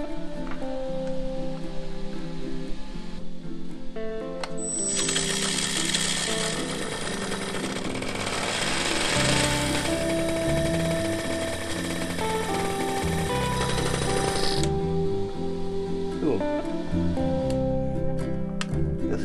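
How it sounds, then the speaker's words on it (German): A newly fitted auxiliary cooling fan on an MB Trac tractor switches on and whirs steadily with a tonal electric hum for about ten seconds before cutting off, close to the listener. "Wenn ich anmache, dann läuft auch dieser Ventilator hier."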